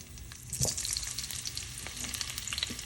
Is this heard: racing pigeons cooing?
no